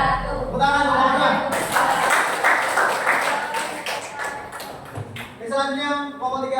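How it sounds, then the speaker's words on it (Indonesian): Classroom audience clapping after a history teacher-training presentation, a burst of hand claps that swells in the middle and fades, with talking before and after. "Tepuk tangan, semuanya."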